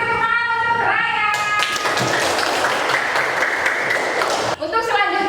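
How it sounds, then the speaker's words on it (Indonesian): A classroom of pupils claps for a classmate named Raya: a burst of applause lasting about three seconds, with a teacher's voice speaking just before and after it. "Beri tepuk tangan untuk Raya."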